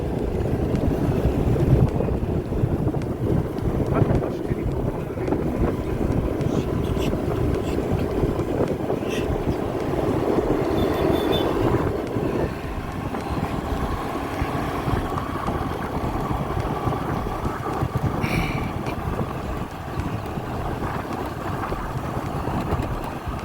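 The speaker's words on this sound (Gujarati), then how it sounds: "અત્યારે હાલ તો પ્રેમ જ એક્ટિવા ચલાવશે" A Honda Activa scooter in motion, its engine droning steadily beneath continuous rushing wind buffeting the microphone for the whole ride, with no voices.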